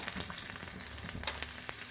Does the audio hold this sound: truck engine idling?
no